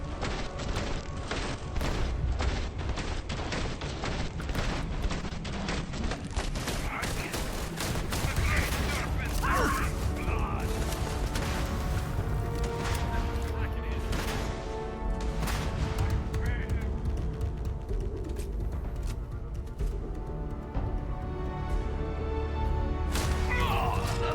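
Gunfire in the video game Starfield Shattered Space, with rapid bursts of shots and booming impacts over a continuous game soundtrack, running nearly the whole time beneath someone talking.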